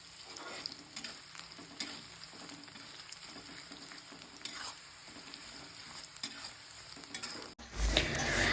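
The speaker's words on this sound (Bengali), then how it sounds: "তোমাদেরকে একটু কষ্ট করে এটা কনস্ট্যান্ট নাড়িয়ে যেতে হবে যাতে তেলটা পুড়ে না যায়" Homemade hair oil sizzling and frying steadily in a pan as it is stirred constantly, a soft continuous crackle with occasional spoon scrapes, ending in a brief louder clatter.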